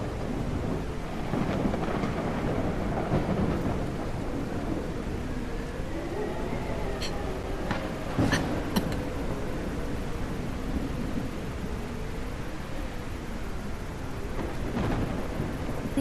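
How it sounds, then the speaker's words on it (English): Thunderstorm with steady rain in a survival video game, a continuous broadband wash of rainfall with low rumbling thunder rolling underneath and a few sharper crackles partway through. "Yeah, I need the storm to clear though,"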